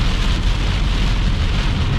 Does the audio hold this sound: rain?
yes